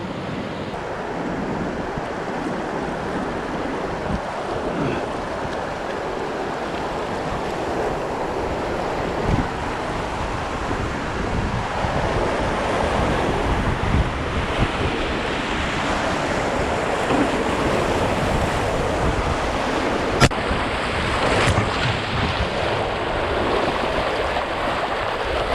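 River rapids on a solo canoe trip make a continuous, loud roar of rushing water and breaking waves. Gusts of wind buffet the microphone, and there is no talking for the whole stretch.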